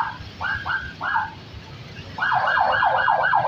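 An ambulance siren opens a Gerindra party parade in Indonesia, sounding a few short wails and then a loud, continuous rapid yelp over low crowd and street rumble.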